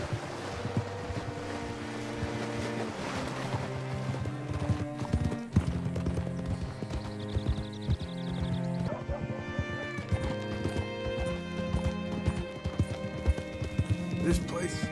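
Horse hooves clip-clop at a steady walking pace in Red Dead Redemption 2, mixed with game ambience, wind and music, while voices talk over the top.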